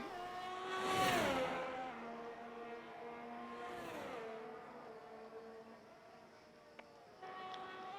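Formula One cars race at Abu Dhabi in a racing video game, their high engine whines rising and falling as two cars sweep past in turn, moderately loud, with no voices.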